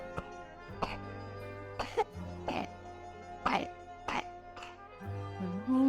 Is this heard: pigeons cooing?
no